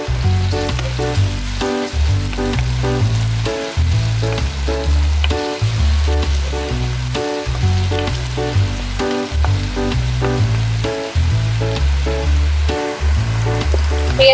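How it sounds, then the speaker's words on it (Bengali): Onion frying in a pan with ginger-garlic paste just added, a steady loud sizzle with regular stirring strokes, alone with no talk. "পেঁয়াজটা মোটামুটি ভাজা হয়ে গেছে"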